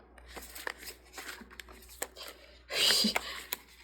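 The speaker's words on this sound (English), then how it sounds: "You have no idea how difficult this is to shuffle." A large combined pile of tarot cards is shuffled by hand, with soft scattered riffles and rustles, then a louder, denser burst of cards being pushed together before a final sharp snap.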